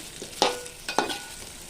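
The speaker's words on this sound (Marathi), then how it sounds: "थोडं परतून घ्यायचं आहे." Chili pieces being stirred and sautéed in a pan for a fasting-day vegetable dish: two sharp scraping stirs over a low, steady sizzle, close and moderately loud.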